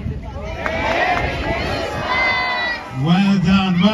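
An audience at a church Christmas show applauds and cheers, crowd noise swelling over several seconds with voices mixed in and a clear voice rising near the end.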